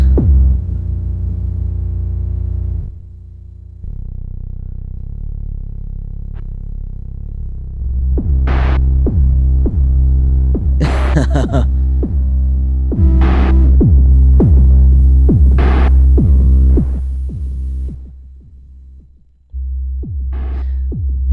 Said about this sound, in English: if we turn up these lower oscillators, as we turn up mod, they become reactive